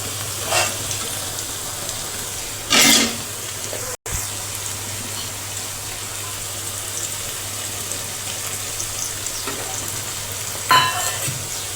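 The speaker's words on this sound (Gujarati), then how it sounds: "આપણે ડુંગળીને 3 થી 4 મિનિટ માટે સંતળાવા દઈશું." Onions with chillies sauté in a pan for an onion tomato sabzi, a steady soft sizzle with a low hum beneath and a few brief stirring scrapes. No one talks.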